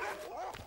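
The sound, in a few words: sled dogs barking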